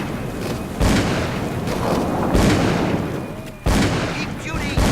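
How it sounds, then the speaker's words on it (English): Gunfire in the horror game Call of Cthulhu: Dark Corners of the Earth, heavy booming shots with sharp onsets near 0.8, 2.4 and 3.7 seconds over a dense, loud battle din. "Keep shooting."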